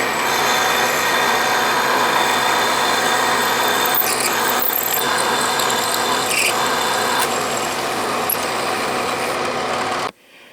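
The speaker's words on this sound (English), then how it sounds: "So let's drill away." A drill boring a deep hole into a cast iron wood vise part, a loud, steady grinding whine with scraping chatter that runs continuously before cutting off abruptly near the end.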